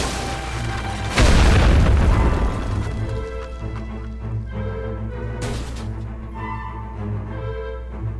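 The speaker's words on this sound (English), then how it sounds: "You can use a detonate button to set them off at the right moment. Run to detonate your explosive." Loud explosive detonation in the World War I strategy game The Great War: Western Front, a sudden booming blast that rolls on with a lingering rumble and scattered crashing debris, no voices.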